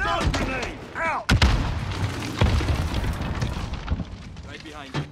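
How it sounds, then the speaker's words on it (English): A grenade detonates with a heavy boom in Call of Duty Modern Warfare during a Hardpoint match, cutting through shouted voices and followed by a rumbling tail and scattered game noise. "Grenade! Down, grenade!"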